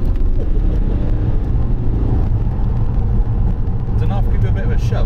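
A BMW 430d Coupe M Sport pulls away under acceleration, a steady low engine rumble heard from inside the cabin beneath ongoing conversation.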